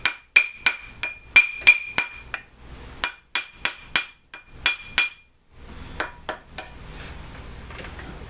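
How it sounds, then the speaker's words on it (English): A rawhide mallet strikes a heavy silver ring on a mandrel, sharp ringing metallic blows in quick bursts of two to four, loud and close, with brief pauses between groups. "I'll get my big rawhide mallet."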